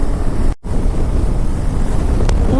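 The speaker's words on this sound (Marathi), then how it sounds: "वारा अजून थंड आहे." Cold wind buffeting a microphone during a motorbike ride on a long highway trip, a loud continuous rumble with a brief dropout near the start.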